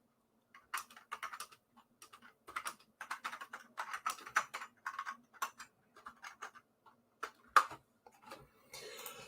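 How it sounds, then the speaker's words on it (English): Rapid typing on a computer keyboard as a message is entered, close and clear, with bursts of clicking keystrokes and brief pauses, ending in a short rustle. "I will just type a wee message as well"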